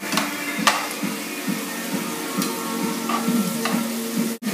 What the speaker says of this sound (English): I'm gonna saute this off.